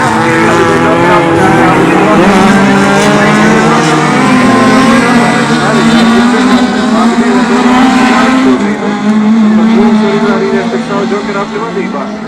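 Rallycross race cars from the Mūsa rallycross event climb a hill side by side, their engines droning loud and steady throughout while a commentator talks continuously over them.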